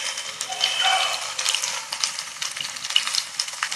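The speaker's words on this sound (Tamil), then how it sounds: "இப்போ பூண்டு வெங்காயம் நல்லா வதங்கிடுச்சு." Garlic and onions sauté in a pan for a fish curry, a steady close sizzle and crackle with occasional stirring scrapes running throughout.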